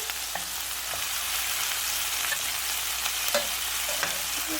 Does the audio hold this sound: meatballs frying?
yes